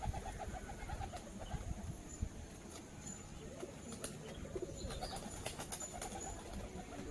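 Pigeons in a loft cooing softly and continuously, a low murmuring chorus with occasional sharp chirps and faint wing movement, fairly quiet and without talk.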